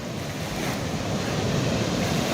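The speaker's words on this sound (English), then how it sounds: "Lobe Waterfall, ladies and gentlemen." The Lobe Waterfall in Kribi, Cameroon, a fall about 20 meters high, gives a loud, continuous broadband rush of crashing water. Wind buffets the microphone throughout, and nobody speaks.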